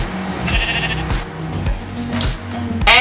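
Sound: sheep bleating in the video game Minecraft

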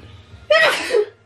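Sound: sneeze

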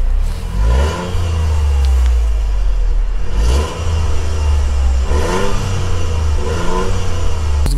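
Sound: Toyota GR Yaris engine revving, exhaust sound

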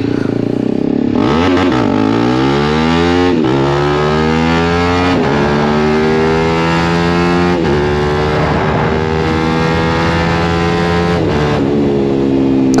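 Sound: TVS Apache RR310 motorcycle with LeoVince exhaust, wheelie attempt

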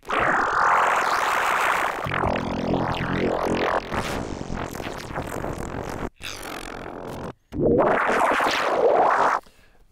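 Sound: EDM bass synth, modulated wavetable in Ableton Live

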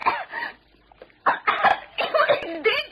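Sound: person coughing up a piece of meat

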